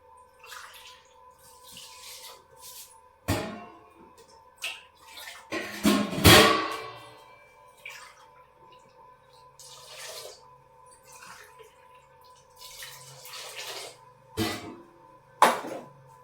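Water is poured from a glass into a cooking pot for vegetable rice in a home kitchen, heard as several short splashing pours among sporadic clatter over a steady low hum, with no talking.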